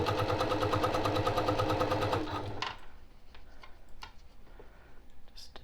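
A home sewing machine stitches fabric for a boxed zipper pouch in a steady rapid run, then stops, leaving faint clicks and handling noises.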